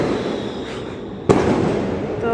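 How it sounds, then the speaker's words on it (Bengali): Eid evening fireworks popping at a distance, with a low rumbling background and one sharp, louder crack midway, followed by continuing faint bangs. "এই যে আতশবাজি ফোটানো শুরু হয়ে গেছে, সন্ধ্যা থেকে ফোটানো হচ্ছে, অনেক ফুটছে"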